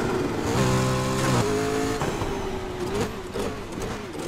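A McLaren's engine in the racing game Need for Speed Heat, a loud steady revving drone with stepped rises in pitch, then settling into a rougher idle-like hum, no talk over it.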